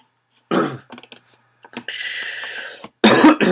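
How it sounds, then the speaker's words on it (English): A few harsh coughs up close, separated by quiet gaps and some light clicking, ending with a loud burst of coughing. "Sorry about this coughing."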